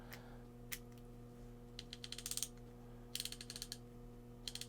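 A ratchet screwdriver's mechanism clicking close up in a quiet room: quick bursts of fine, light ticks in short runs, separated by brief pauses, over a faint steady hum.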